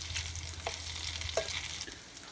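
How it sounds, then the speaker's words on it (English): Zucchini pancakes deep frying in hot oil give a steady close sizzle and crackle with a few brief stirring scrapes, over a low background hum. "when you're deep frying something like this, you have to make sure this oil is hot"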